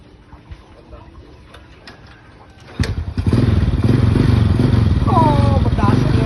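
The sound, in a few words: new motorcycle engine running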